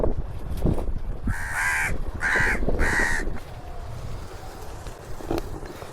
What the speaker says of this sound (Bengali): এই যে কাকের ডাক, এই দেখুন